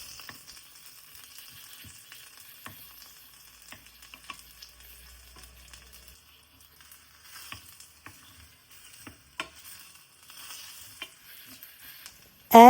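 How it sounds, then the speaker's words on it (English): Garlic frying in cooking oil in a pan over medium-high heat gives a faint, sparse crackle with scattered soft pops, quiet and without voices. "Add the cooking oil and then fry the garlic"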